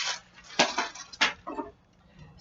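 A knife chops through cauliflower on a board for vegetable soup, giving a few sharp, separate hits spaced about half a second apart, close up and with no talking.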